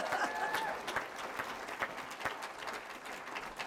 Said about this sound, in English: Father Borski comes complete with fan club and cheering section